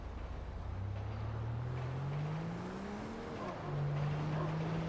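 An ATV engine in GTA V drives along a road, its steady motor drone rising in pitch as it accelerates, dipping briefly near the end, then settling into a loud, even hum with no talking.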